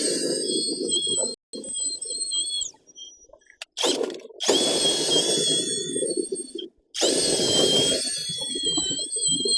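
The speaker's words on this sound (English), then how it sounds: "bit of toilet brush action." Swift potatoes scrubbed clean with a toilet brush outdoors beside compost bins, giving bursts of harsh bristly scraping with brief pauses between strokes, close and fairly loud, with whining squeals over the top.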